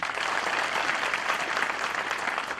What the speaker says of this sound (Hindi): तालियों की मैं गुंजाइश करता हूँ।